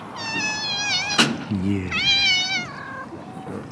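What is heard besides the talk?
cat meowing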